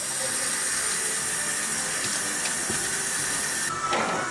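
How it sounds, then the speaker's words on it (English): Running water washes a cyanotype print: a steady, loud hiss of water flowing without a break, with a slight change in the flow near the end. "So now what I'm going to do is let the print wash."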